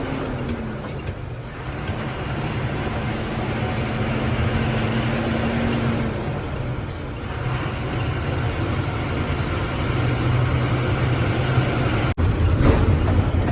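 A vehicle drives along the Siddapur ghat road with a steady, loud engine drone and road rumble that varies slightly in pitch, heard close throughout with no talking.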